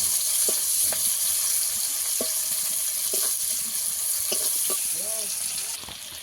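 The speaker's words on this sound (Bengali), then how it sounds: "থেকে কেটে রাখা পেঁয়াজ আর দুটো কাঁচা লঙ্কা দিয়ে ভালো করে ভেজে নেবো পেঁয়াজটাকে" Sliced onion and two green chillies fry in hot oil, a steady close sizzle with occasional stirring scrapes and clinks of a utensil against the pan.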